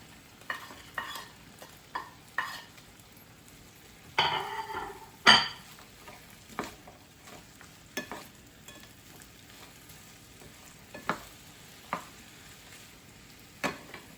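Beef and broccoli stir-frying in a pan, a low sizzle punctuated by scattered clanks and scrapes of a utensil against the pan, with one louder burst of hissing as meat goes back in, close and without talk.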